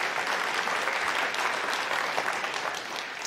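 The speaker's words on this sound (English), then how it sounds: "So let's give all of them a cheer." A church congregation at a Sunday live service claps steadily for a few seconds, a loud, dense crowd of hands with a faint murmur of voices beneath, tapering slightly at the end.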